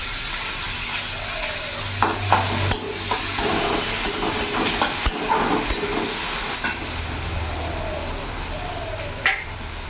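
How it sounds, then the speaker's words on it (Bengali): Chopped onion fries in hot oil in a pan over a medium flame, giving a continuous close sizzle and hiss broken by repeated clinks and scrapes of stirring, with no voices. "পেঁয়াজটা আমি একটু ভেজে নেবো"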